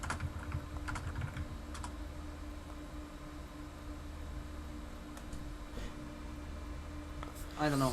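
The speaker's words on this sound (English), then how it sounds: "I don't know what I'm typing." Keys clatter on a computer keyboard in short uneven runs of typing, fairly faint beneath a steady background hiss, with a person talking over it.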